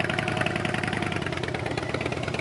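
A motor engine idles steadily at close range, a dense continuous rumble with a fast irregular chugging pulse and no talking.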